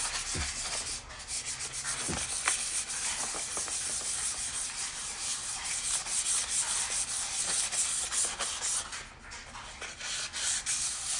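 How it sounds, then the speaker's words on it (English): Steady, close rubbing rasp of sandpaper on a tumbler being prepped for an alcohol ink and plastic-wrap crackle finish, continuous for the whole stretch with small scuffs and no talking. "First, I'm going to sand it down a little bit."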